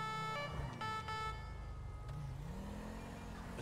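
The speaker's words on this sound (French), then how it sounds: "J'entends les sapeurs-pompiers." Wailing fire engine siren in GTA 5 on a city street, a steady rising and falling tone over a low engine and traffic rumble, with short horn-like toots early on.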